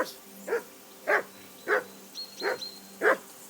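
Video game dog in Kingdom Come Deliverance II barking steadily, five or six evenly spaced barks roughly every half second, fairly close and clear over faint background hum, with no voices.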